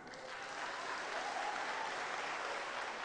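Applause from a church congregation at a Christian gathering in Surabaya, Indonesia: a steady, dense wash of many hands clapping at once, sustained at an even level for the whole stretch with no voices above it.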